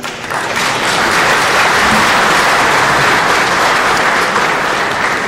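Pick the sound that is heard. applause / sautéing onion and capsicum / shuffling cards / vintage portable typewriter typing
applause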